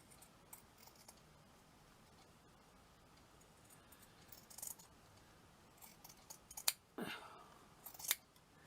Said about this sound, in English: So I've got to cut this as straight as possible.